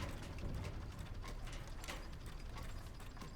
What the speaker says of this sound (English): Most of the game, what we heard was creak noises.